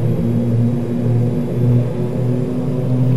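King Air B200 twin turboprop engines in a flight simulator spool up for takeoff, a steady loud droning hum with strong low tonal propeller harmonics and constant rumble, no talking.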